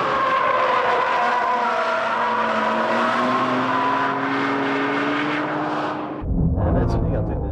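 A Honda NSX in a racing video game climbing an uphill hairpin, with a loud, continuous engine drone whose pitch slowly sags and rises, then a sudden gear change and a sharper burst near the end.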